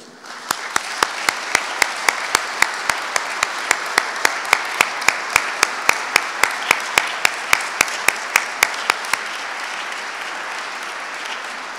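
At a museum exhibition opening in Soignies, the audience applauds the retiring curator and his wife, starting as a dense clatter that settles into rhythmic, unison clapping with sharp regular beats before stopping and leaving quiet room murmur.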